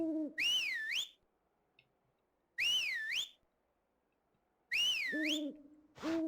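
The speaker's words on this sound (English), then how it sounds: "I should whistle 3 times." A person whistles three separate times, each a clear wavering warble with a short rising-falling pitch, spaced by pauses of silence, up close and fairly loud.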